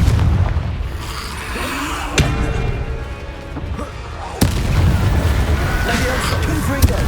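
Fire-blast spell explosions in Hogwarts Legacy, with deep booms striking at intervals over a rumbling game backdrop, loud and close, and a voice calling out spells between them.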